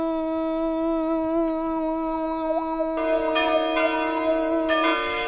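A large metal bell struck, ringing with a strong sustained tone and long resonant decay, with fresh bright strikes layered in near the end; no talking.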